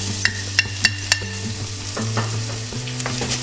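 Garlic and shallots sauté over medium-high heat in a pan, a steady close sizzle punctuated by several sharp clinks and scrapes as the pieces are stirred and moved around.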